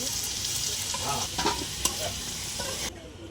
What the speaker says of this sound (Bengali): তেলটা গরম হয়ে গেছে আলুগুলো ভেজে নেব